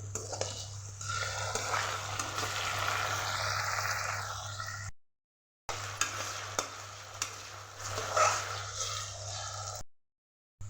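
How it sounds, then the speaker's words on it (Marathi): Potatoes for sabudana khichdi sizzle and fry steadily in a pan, with stirring scrapes throughout and two brief dropouts to silence; no one speaks. "आपले बटाटे मस्त इथे फ्राय झालेले"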